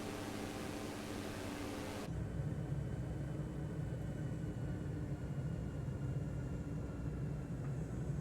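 A Diamond DA40 with full flaps set lands on a taxiway in MSFS 2024, its steady engine and airflow drone growing louder and rougher partway through, with a brief spoken remark.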